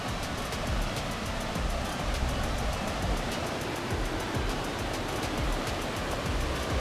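Steady broadband rush of river water flowing near a waterfall, a constant even roar without pauses, filling the whole span with no voices.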